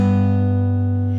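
A guitar sounds a tenth interval, two notes struck together and left to ring in a steady, sustained tone that fades only slightly, alone with no talk.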